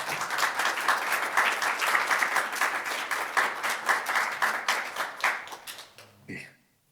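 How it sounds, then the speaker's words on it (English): Enthusiastic audience applause for a speaker at a furry studies conference panel, dense steady clapping that swells and then tapers off abruptly near the end. "Please give them a big round of applause."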